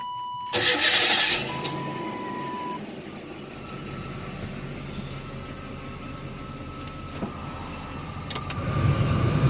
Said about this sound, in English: We have a good sounding, blowing blower motor, like what it's supposed to do.